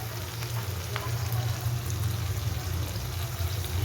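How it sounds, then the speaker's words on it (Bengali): Capsicum and onion frying in a pan as red chili sauce and tomato sauce go in, a dense steady sizzle with light stirring and pouring sounds, close and continuous without talk. "এখন দিয়ে দিচ্ছি 1 চামচ রেড চিলি সস, 1 চামচ টমেটো সস"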